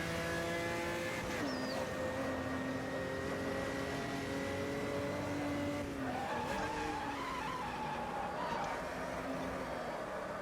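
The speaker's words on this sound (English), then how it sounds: "Big lock up." Old school V8 race car braking hard into a wheel lock-up, with a squealing tyre skid over a loud, close engine whose pitch falls and then climbs again.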